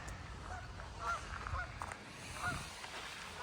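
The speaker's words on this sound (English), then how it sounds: "All the geese aren't impressed, but we are." Geese honk on a wilderness lake in Quetico Provincial Park, a few faint, scattered calls carried over a low wind-like background with no talking.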